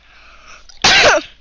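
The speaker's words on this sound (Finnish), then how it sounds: "sit mä alkaa yskittää" A single sharp, explosive cough bursts out close to the microphone after a quiet breathy lead-in, loud and short, with no talking around it.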